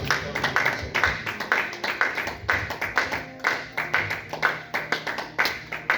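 A church congregation clapping together in praise, many hands striking in a quick, steady rhythm that stays loud and close for several seconds, with faint voices mixed in beneath.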